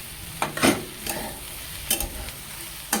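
Okra and carrot stir-fry in a pan under a constant sizzle, with a few sharp scraping strokes of a spatula cutting through at irregular moments.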